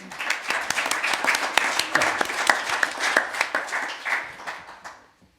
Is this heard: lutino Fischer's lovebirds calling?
no